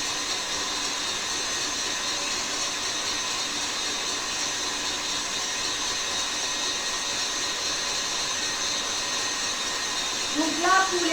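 A stand mixer whisks Swiss meringue for macarons in a bowl, a continuous, even motor whir with a high whine, steady from start to finish, with a brief sound near the end.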